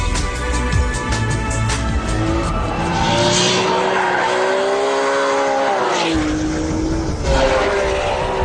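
A Ferrari 599 GTB Fiorano V12 supercar drives loud and close. Its engine note climbs, dips and climbs again through the revs, with a tire squeal mixed in.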